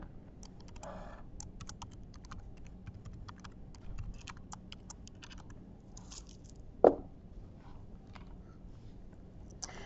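Typing a username and password on a computer keyboard: quiet, irregular key clicks in short bursts, with one sharper tap near the end.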